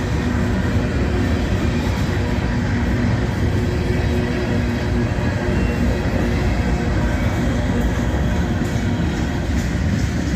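A Union Pacific freight train with loaded tank cars rolls past close by, a constant heavy rumble of wheels and cars at a steady loud level throughout.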